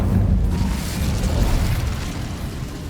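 Incendio fire spell cast in the Hogwarts Legacy video game, a dense whooshing burst of flame that swells up loud at once and rolls on for about three seconds before easing slightly, with no voices.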